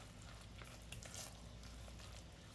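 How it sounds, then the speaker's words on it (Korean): Minced zucchini stir-fries gently in a pan for a vegetable soybean-paste stew, a quiet steady sizzle with faint scattered stirring ticks and one brief brighter scrape near the middle. "저는 호박, 애호박 다진 거 넣고 또 살랑살랑 볶아주세요"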